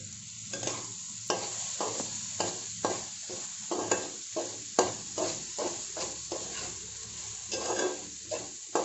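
Ginger-garlic paste fries in a pan for a spiced chicken curry, with a constant close sizzle. A spatula scrapes and stirs in a regular rhythm, about twice a second, and no one speaks.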